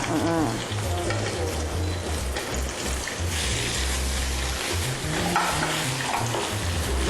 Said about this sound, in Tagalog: tapos ang atong pinirito na tuna